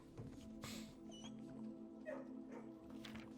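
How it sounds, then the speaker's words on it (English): A dog makes soft whimpers and small yips in a quiet room, brief scattered sounds at low volume with short gaps between them. "It was probably just dog noises."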